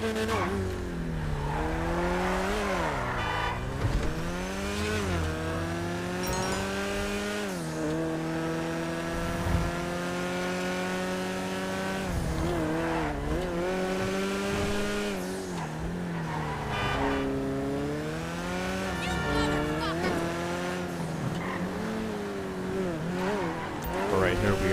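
Karin 190z sports car in GTA Online, a Nissan Fairlady Z432-style build, its engine revving up and down through gear changes with repeated rising pitch sweeps and occasional tire squeal, loud and continuous.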